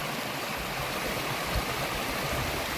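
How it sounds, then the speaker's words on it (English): A small stream along the Appalachian Trail rushes in a dense, continuous wash of flowing water, close and steady from start to finish, with no voices. "Alright, here's a nice little stream."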